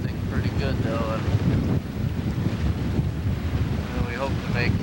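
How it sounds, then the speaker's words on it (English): Strong wind buffets the microphone aboard a sailboat crossing Lake Huron, a loud, continuous roar with water rushing beneath it and a voice speaking briefly. "Gusting pretty good though"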